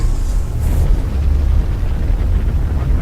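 A spaceship explosion in a sci-fi video game, a loud sustained rumbling roar heavy in the low end that continues without break for several seconds.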